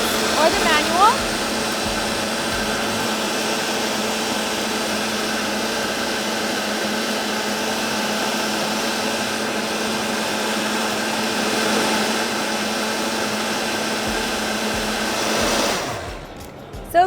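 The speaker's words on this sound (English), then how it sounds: "So now that it's done, we're gonna go ahead and do our blend." A Tribest Dynapro DPS-1050 commercial vacuum blender blends a raw smoothie with a loud, continuous high motor whir that holds steady for about sixteen seconds, then winds down and stops.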